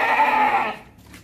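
A young nanny goat bleats loudly and close by, newly arrived at an unfamiliar place and unsettled, one sustained cry that fades out at the end.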